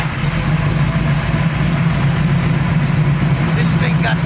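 A rebuilt 427 V8 in a 1967 Chevy Camaro SS idles steadily close by, a loud, even low rumble throughout.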